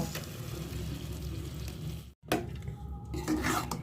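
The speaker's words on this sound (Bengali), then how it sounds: "এটা দিয়ে আমি ভালো করে কষাতে থাকবো" Chicken stir-fried in a pan with gravy paste gives a loud, steady sizzle with scraping stirs, a brief silent break midway, then the hiss and stirring return.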